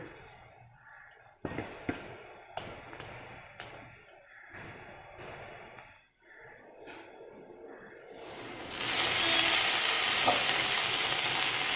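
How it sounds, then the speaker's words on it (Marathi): Potatoes frying in a pan until crisp, soft clinks and scrapes at first, then a loud, steady hiss of sizzling oil filling the last few seconds, close and without talk. "बटाटा बघा खरपूस असा चांगला तळून झालेलं आहे"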